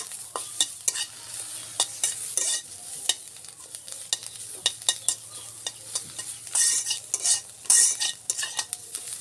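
Onion, garlic, green chili and ginger frying together in a pan with a bright, steady sizzle, punctuated by repeated sharp scrapes and clinks of a spatula stirring close by.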